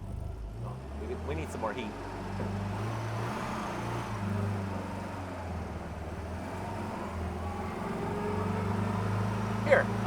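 A turbocharged 1967 Austin Mini Moke, a left-hand-drive North American car, drives along with a steady low engine drone whose pitch rises and falls, close and constant under people talking.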